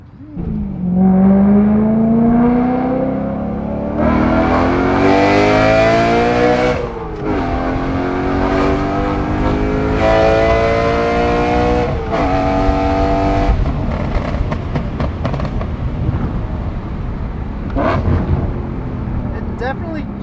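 A BMW E90/E92 M3 S65 engine revs repeatedly through a throaty prototype X-pipe exhaust, rising and falling in pitch with bursts of acceleration, loud and close.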